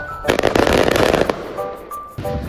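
Fireworks explode over Marina di San Nicola near Rome and are heard from a distance. A dense burst of sharp cracks and booms comes first, then it eases into a quieter rumbling tail with scattered pops.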